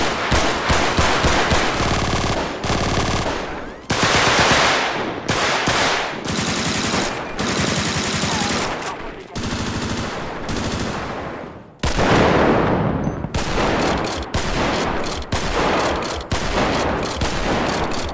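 Rapid bursts of heavy automatic gunfire from modded, realistic weapons in GTA 5, loud and punchy, arriving in repeated volleys separated by brief gaps and echoing tails.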